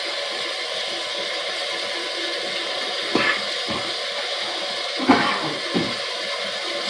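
Water runs steadily over a caught reservoir rainbow trout as it is rinsed before filleting, a constant hiss with a few brief splashes and knocks.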